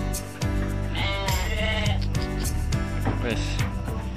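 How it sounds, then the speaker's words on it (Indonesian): Javanese goats bleating at a goat farm in Bogor, a loud, continuous chorus of overlapping bleats and calls from several animals close by. "Nih, kambing Jawa nih, guys."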